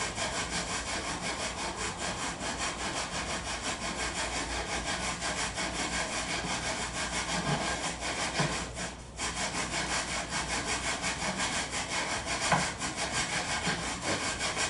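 A tool is worked back and forth with a twisting motion inside Remington 700 scope rings, making a loud, steady, continuous rasping scrape with only one brief pause.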